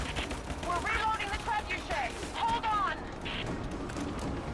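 Gunfire in Rise of the Tomb Raider with a helicopter battle going on, coming as quiet, fairly distant bursts and rattling shots mixed with game effects while voices talk over it.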